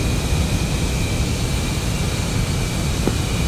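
F-15 jets on takeoff in DCS, a loud, steady broadband jet engine roar with a thin constant whine riding over it, close and continuous throughout.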